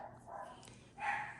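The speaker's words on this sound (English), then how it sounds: "I don't know if you can hear my dogs barking" Pet dogs barking indoors in a quiet room, a couple of soft, muffled yips heard faintly in the background.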